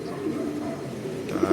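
Racing pigeons coo at a pigeon loft, a low soft murmuring call heard close by over faint background noise.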